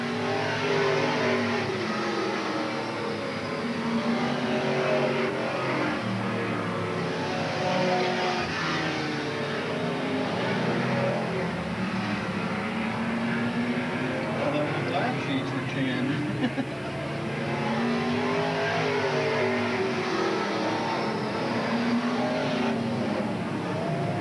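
Stock cars roar continuously around the Willamette Speedway oval at a 1987 race, engines droning and swelling as they pass, while an announcer talks over the racing throughout.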